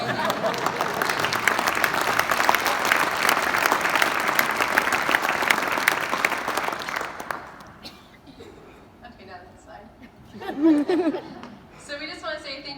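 An audience at the 2020 Iowa 4-H Foundation Legacy Awards Gala claps for the speakers' mothers, dense applause with a few chuckles filling the first seven seconds before fading to scattered claps and murmurs, with a brief laugh near the end.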